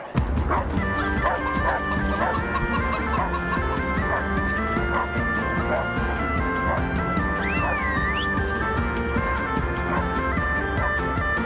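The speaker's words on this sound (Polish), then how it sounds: "Jeszcze nas normalny piesek pogonił." In Kingdom Come Deliverance 2, a dog barks repeatedly in quick yapping bursts, close and clear over steady, continuous background music.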